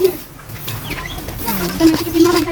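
Birds coo and call intermittently amid a busy outdoor background, with brief chirps and some voices nearby.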